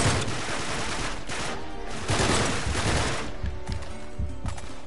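Rapid bursts of gunfire from the video game Uncharted 3, a dense fusillade of repeated shots and automatic bursts running throughout, loud and close, with no talking.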